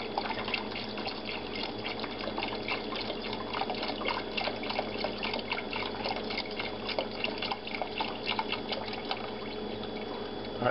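Canned stock for turkey posole pouring steadily from a 32-ounce carton into a pot, a continuous splashing liquid trickle with dense dripping detail, close and moderately quiet, no talking.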